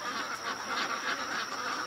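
Many ducks quacking together in a pen at night, a dense continuous chorus of overlapping calls at moderate distance.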